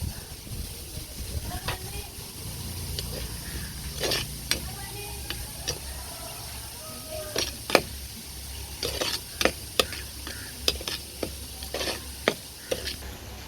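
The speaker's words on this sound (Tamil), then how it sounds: "வெட்டி வச்சுருக்கிற தக்காளி இதில் சேர்த்துருவோம்" Chopped tomatoes fry and are stirred in a pan for a Kottayam-style fish curry. A steady sizzle runs underneath, with a spoon scraping and clinking against the pot in irregular bursts, loudest toward the end.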